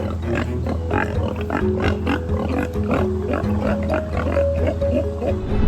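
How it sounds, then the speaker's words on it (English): Pigs grunting repeatedly at close range in the Netherlands, with snorts and squeals over steady background noise; faint voices mix in. "we've never seen a happy pig before"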